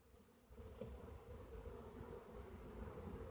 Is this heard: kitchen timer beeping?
no